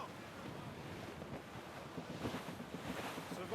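Wind at sea in the Assassin's Creed Rogue video game, a steady broadband rush with a sense of surf, moderate and continuous without speech.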